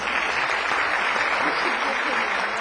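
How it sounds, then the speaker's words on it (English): Dense, steady applause from a crowd at a city council meeting, filling the whole moment with a continuous wash of clapping at an even, fairly loud level. "Give him a round of applause."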